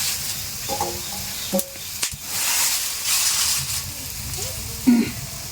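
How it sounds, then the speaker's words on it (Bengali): Pieces of paira fish are dropped one by one into a hot pan of oil, giving a steady loud sizzle and hiss with a few sharper spits as each piece lands. Faint voice sounds come and go beneath it. "তো এর মধ্যে মাছগুলো একে একে দিয়ে দিচ্ছি।"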